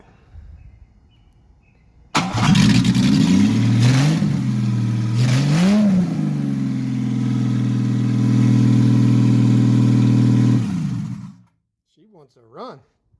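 A 1962 Mercedes 220SE coupe engine cranks and catches, then runs with loud, uneven revving that rises and falls before settling into a steady idle. It cuts off abruptly, leaving a faint voice afterward.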